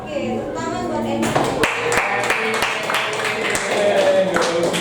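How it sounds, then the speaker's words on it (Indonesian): A classroom claps for a student, with a scattered run of sharp hand claps that starts after a brief stretch of voices and continues over room murmur. "tepuk tangan buat Emir"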